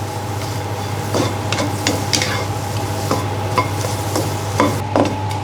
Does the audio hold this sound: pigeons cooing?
no